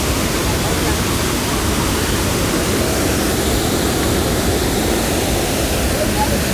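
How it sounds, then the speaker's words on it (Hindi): The large Borhills waterfall in Meghalaya in full monsoon flow, a dense, unbroken roar of falling water that stays loud and steady throughout. "इस वाटरफॉल का नाम है बोर हिल्स वाटरफॉल"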